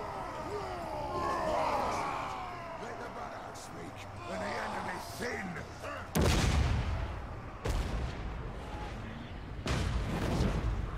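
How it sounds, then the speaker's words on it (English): Dwarf cannon firing in the fantasy battle game Total War: Warhammer II, with a few loud, sharp booms that crack out over a busy din of battle noise and then fade. "the Dawi going to continue firing away with that cannon"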